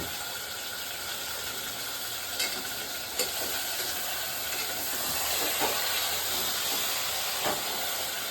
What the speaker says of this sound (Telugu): ఇప్పుడేమో గిన్నె కుక్కర్ ఉడికాయింది